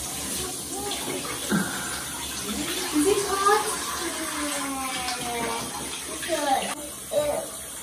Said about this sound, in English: now your hair must be rinsed